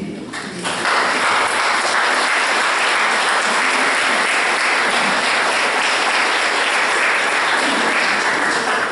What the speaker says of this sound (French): Une manière de les remercier, c'est déjà de les applaudir.